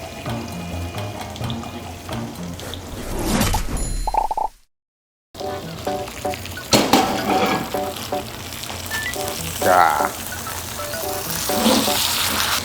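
Tomahawk steak searing in a pan: sizzling and frying with bursts of crackle, briefly cut to silence midway, then continuing with clinks and stirring; a voice speaks briefly.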